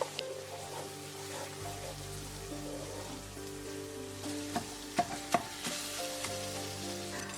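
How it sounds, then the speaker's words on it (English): Tomatoes and onions cook in a pan over lowish medium heat, giving a steady soft sizzle and bubbling throughout, with a few sharper clinks or stirring taps near the middle. "I add the tomatoes to the onions and just cook them on a lowish medium heat."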